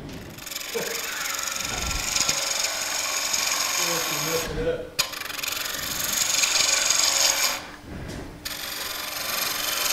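A Buck Brothers gouge cutting into spinning wood on a lathe, a steady hissing scrape with brief pauses where the tool lifts off, heard close with a voice talking over it.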